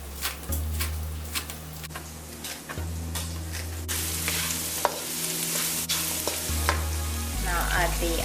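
Chopped onion and chili pepper frying in a pan, a loud continuous sizzle with scattered clicks and scrapes of stirring, the hiss brightening midway as the ingredients hit the hot oil, with no talk over it.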